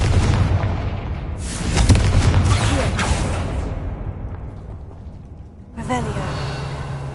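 Booming fire-spell blasts in Hogwarts Legacy on PS5, heavy crackling bursts near 2 s and again near 6 s over a rumbling game soundscape, with a spoken voice present throughout.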